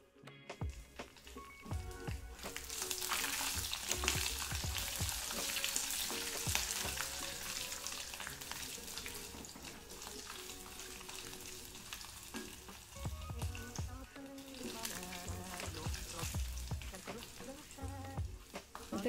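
Grated coconut, garlic and ginger fry in a pan for Marathi sev bhaji, a dense, continuous close sizzle with stirring scrapes and a brief quieter dip midway before the frying swells again.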